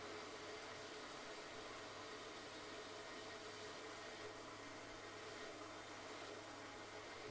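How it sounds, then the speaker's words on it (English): A Dual Force hydro-power system's pump running dry, giving a steady, even whirring hum with broadband hiss and a low drone, constant throughout with no talk. "that increase in noise means the pump is running dry"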